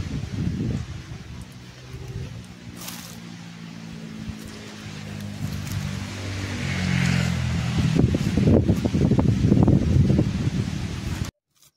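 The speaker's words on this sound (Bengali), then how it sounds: "হাওয়াও হচ্ছে খুব জোর" Strong monsoon wind blows across open ground scattered with large boulders near Netarhat, a steady low roar that buffets the microphone and grows heavier toward the end, with no one speaking.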